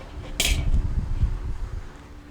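A metal cooking grate set down on a Weber kettle grill before smoking pork spare ribs gives one sharp close metallic clank, followed by low rumbling handling noise and a faint steady fan hum.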